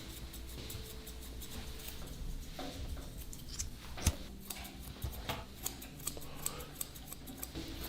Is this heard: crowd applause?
no